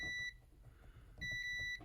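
A continuity tester probing a game cartridge circuit board gives two steady electronic beeps, one short and one longer, separated by a quiet gap, close and clear with no talk.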